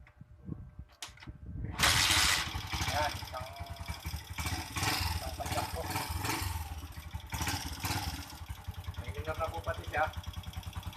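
A Honda TMX 125 motorcycle engine, just fitted with a cleaned carburetor, starts up after a few knocks and then idles with a rough, steady putter, close by, while someone talks over it.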